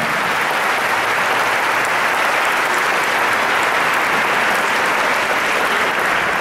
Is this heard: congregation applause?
yes